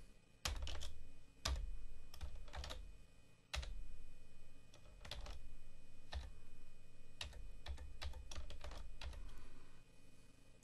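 Computer keyboard typing a certificate password, bursts of close, crisp key clicks separated by short pauses over a faint steady background hum.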